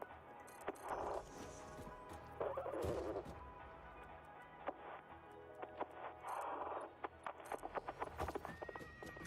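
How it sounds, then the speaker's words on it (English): Horses in the Satisfactory video game whinny several times at close range, mixed with clip-clop hoofbeats and sharp knocking clatters over a low background hum. "Do I hear horses?"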